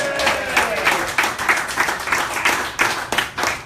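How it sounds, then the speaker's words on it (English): Crowd applause at a sprint car racing event greets the Knoxville Nationals champion, a steady patter of clapping that rises and falls in waves for a few seconds, with a voice partly audible beneath it. "Round of applause, please, everybody!"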